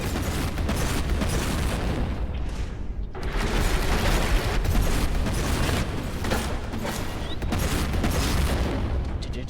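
The Vengeance Launcher in Warhammer 40k Boltgun booms in dense, continuous blasts, a loud unbroken roar of explosions and mechanical clatter with no talk over it.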